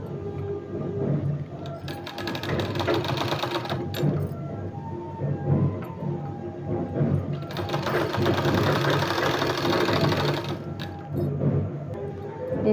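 Sewing machine stitching a 2-inch strip onto a sleeve, close rapid mechanical whirring in bursts with short pauses between runs.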